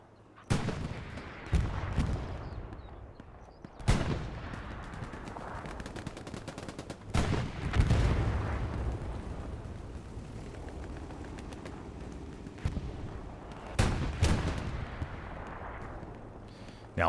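Katyusha rocket artillery barrage in the World War II shooter Hell Let Loose during a large competitive match: distant heavy booms and crackling gunfire arrive in bursts every few seconds over a low rumbling battlefield.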